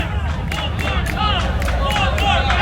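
Wrestling crowd at a PWA Born To Be Wild show at Leesburg Bike Fest cheers for Ray Fury, a loud, dense roar of voices with rhythmic sharp accents of clapping and shouted chanting throughout.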